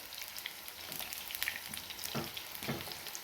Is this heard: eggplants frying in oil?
yes